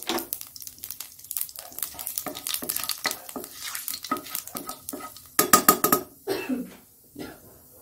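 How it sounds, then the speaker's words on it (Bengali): Nigella seeds crackle in a hot kadai, a close, busy sizzle broken by brisk scraping and clinks of a spatula stirring against the pan, with louder bursts of spatter near the end. "কড়াইটা চাপিয়ে দিয়েছি, আর এখানে কালো জিরে দিয়ে দিলাম।"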